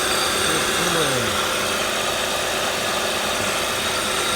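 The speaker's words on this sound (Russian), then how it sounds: "Движок только завел, холодный." A cold Toyota Camry 3.5 engine idles with a steady mechanical hum and fine rattling knock running continuously, close up, with a brief falling whine early on and a person talking quietly over it.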